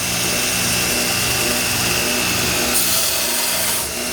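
An Ameribrade belt grinder runs in a steady, loud, dense grinding roar, holding constant for the whole stretch with only a slight shift near the end.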